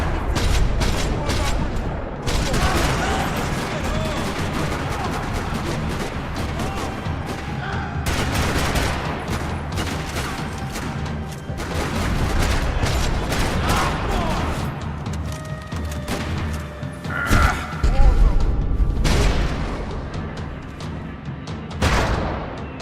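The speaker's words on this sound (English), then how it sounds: "Another parking lot rattling with gunfire." Bursts of rapid gunfire and booming blasts in a parking lot in the video game Max Payne 3 rattle on and off over a steady game soundscape, with voices talking underneath.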